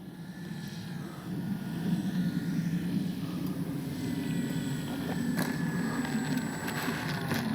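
A very light Dynam ME BF-109 RC model warbird flies in gusty wind, its small electric propeller a steady mid-range drone that rises slightly and then holds, blended with wind rush and no talking.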